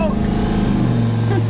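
Turbo LS-powered wrecker engine revving hard, a loud, dense, steady roar close by, heard under excited talking.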